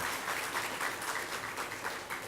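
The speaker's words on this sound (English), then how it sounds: "Let me first of all ask you to once again applaud that wonderful rendition of our popular Trinidad and Tobago tune." Steady audience applause follows a sung rendition of a Trinidad and Tobago tune at a housing distribution ceremony in Malabar, a dense, even wash of clapping held at moderate level throughout.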